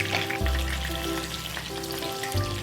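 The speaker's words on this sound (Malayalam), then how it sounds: "അതിലേക്ക് ബാക്കി ഇരിക്കുന്ന പീസസും കൂടി ഇട്ട് ഇതുപോലെ വറുത്തെടുക്കും" Chicken pieces fry steadily in hot oil, a close, continuous sizzle with a low hum beneath and faint clinks, no voices.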